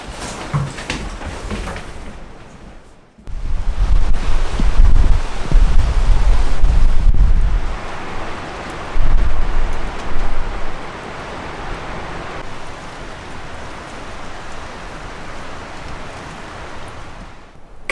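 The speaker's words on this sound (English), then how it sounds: "You can see the rain blowing sideways" Wind-driven rain blows sideways at Cabin Point on the Sooke coast of British Columbia, roaring and buffeting the microphone in strong gusts that build and then settle into a steady rushing hiss.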